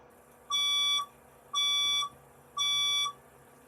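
A fire alarm speaker in a room sounds its alert tone: three evenly spaced half-second electronic beeps, steady and bright, over a faint room hum.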